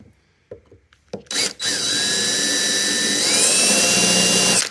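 A few sharp knocks, then a power drill spins up and runs steadily at high pitch while stepping up a hole size, its whine rising slightly partway through, loud and close.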